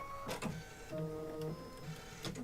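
An embroidery machine stitches a pizza-slice mug rug, a rapid mechanical whirring stitch pattern in short bursts with pauses, quiet and close, no talk.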